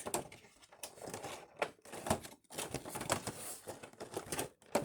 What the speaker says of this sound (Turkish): Şu paketi de açalım artık.